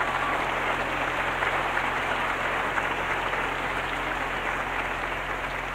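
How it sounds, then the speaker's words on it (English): An audience at a 1998 gospel concert claps steadily, a dense even wash of applause that holds without pause throughout. "Give him another hand clap for him."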